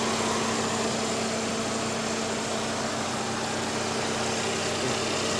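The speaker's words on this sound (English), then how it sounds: "as you can see, the engine is idling nicely" Saab car engine idling smoothly during an EVAP leak repair, a steady, low, even hum with a constant tone and no revving, heard up close with no talking.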